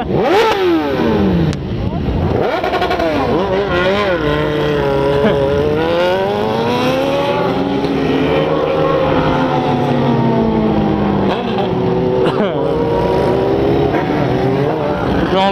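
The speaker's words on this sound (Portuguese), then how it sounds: "É muita moto, vai reto." A crowd of motorcycles on a nighttime group ride rides by in a loud, unbroken roar, engines revving up and down with overlapping whining pitches, close and intense.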